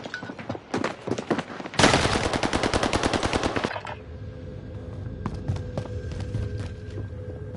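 Automatic gunfire in the video game Warzone: a few scattered shots, then a loud sustained burst of rapid fire lasting about two seconds, followed by lower rumbling background noise and faint sporadic pops.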